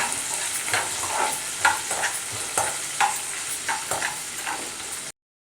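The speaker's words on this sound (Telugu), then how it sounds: "ఇప్పుడు బీన్స్ మిర్చి ఇవి వేగేదాకా కలుపుకుందాం" Beans and green chillies with carrots frying in a pan for a spicy chicken soup, a steady close sizzle broken by rhythmic scraping strokes of a spoon about every half second, no voices, ending abruptly.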